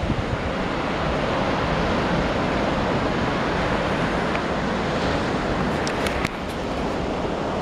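Surf pounds on the beach at Dunedin, New Zealand, a loud continuous roar of breaking waves mixed with wind buffeting the microphone.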